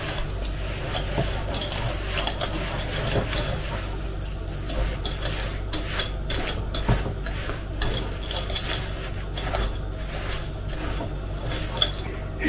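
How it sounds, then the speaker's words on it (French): A whisk beats harcha batter in a bowl, making continuous scraping and swishing with frequent small clinks against the sides, steady and close throughout. "On mélange. C'est pour ça que j'utilise un fouet."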